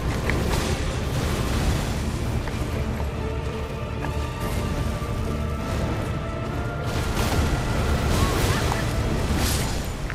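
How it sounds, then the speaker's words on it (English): Explosion in the Elden Ring video game, a dense continuous roar of booming, crashing game audio filling the whole stretch at steady loudness with no clear separate blasts. "That's an explosion."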